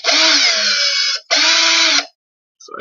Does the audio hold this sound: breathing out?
no